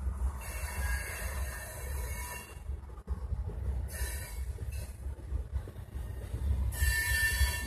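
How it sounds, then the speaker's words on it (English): A long freight train of many rail cars rolls past on tracks behind a farm in Vermont, a continuous close rumble with recurring high wheel squeals and clanks, no talk. "Well, got a lot of rail cars."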